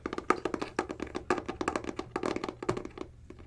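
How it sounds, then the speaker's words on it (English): Rapid fingertip tapping on a book cover, close and dry, a dense flurry of hollow knocks in uneven bursts that thins out near the end, heard alone without speech. "I love the sounds book covers make."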